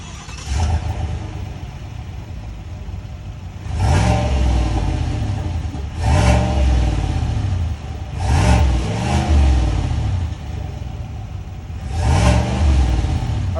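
A Chevrolet 5.3-liter V8 truck engine idles, then revs up sharply four times in separate bursts, each rising and falling back to a steady idle.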